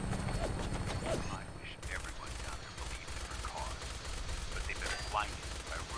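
Rapid gunfire from the virtual reality game Fallout 4 VR crackles in a dense, continuous barrage at moderate distance, with voices faintly mixed in.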